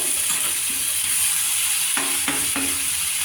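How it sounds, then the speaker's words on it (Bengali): Chicken curry with potatoes and a splash of added water bubbles and hisses steadily in the pan while a spoon stirs it, giving a few distinct scraping knocks near the end. "একটু জল দিচ্ছি, জল দিয়ে একটু নাড়াচাড়া করছি"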